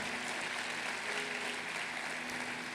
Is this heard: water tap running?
no